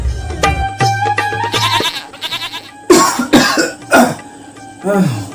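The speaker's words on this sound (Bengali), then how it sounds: "সকাল থেকে খুব সর্দি আর কাশি হচ্ছে" Several rough, throaty coughs from a man with a cold in a Bengali comedy sketch, coming in uneven bursts, close and loud, with some strained vocal sounds between them.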